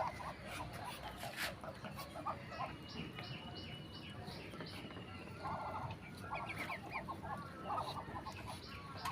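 Ducks on a rooftop farm, including one large drake, quack in repeated nasal bursts and honks over a steady busy background of flock noise, close by and continuing throughout.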